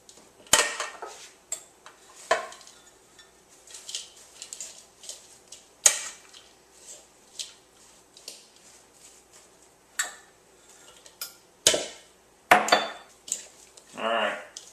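A spoon scrapes and clinks against a bowl as muffin batter with coconut and raisins gets mixed, irregular knocks and taps repeating over a quiet background, with occasional sharper strikes.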